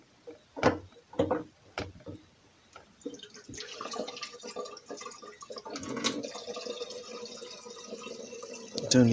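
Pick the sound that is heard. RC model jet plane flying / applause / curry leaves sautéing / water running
water running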